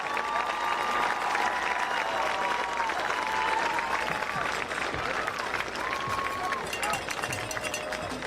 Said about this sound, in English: Let's give a big round of applause for our homecoming chorus.